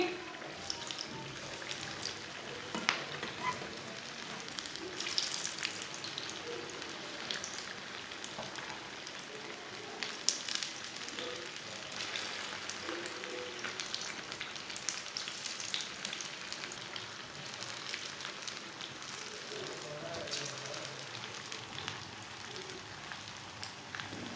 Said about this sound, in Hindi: टिक्कियों को 2 मिनट के लिए फ्राई होने देंगे, बाद में इसे उल्टाते हैं।